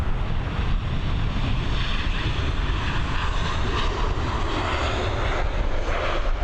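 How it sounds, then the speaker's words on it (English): A Boeing 737 airliner lands at Dublin Airport, its engines a loud, steady, broadband roar throughout, with wind buffeting the microphone and no talking. "Nice landing there from the Boeing 737."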